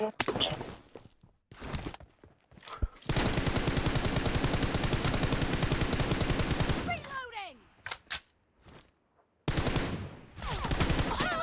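Sustained automatic gunfire in PUBG Mobile during a team deathmatch, a long unbroken burst of rapid shots, with several short bursts and single shots around it, close and loud.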